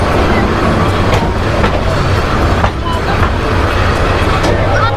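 The Tista Express pulls into Mymensingh Junction with a loud, continuous close-up rumble of wheels and carriages, faint rhythmic clacks running through the steady roar.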